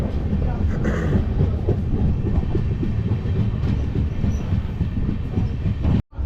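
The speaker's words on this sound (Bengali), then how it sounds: "আর আমাদের ট্রেন ক্রস করে গেছে বড়নগর রোড" Padatik Express passenger train, Sealdah to New Jalpaiguri, rumbling steadily along the tracks with continuous loud clatter from inside the carriage, ending in a brief drop near the close.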